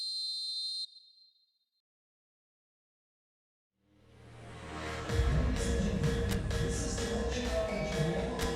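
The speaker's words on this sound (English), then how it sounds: "And there goes the final whistle." A referee's whistle blows at the final whistle of an eFootball PES 2021 match between AFC Bournemouth and Tottenham Hotspur. It is a short, shrill blast that fades into silence, and then loud stadium crowd noise swells and carries on.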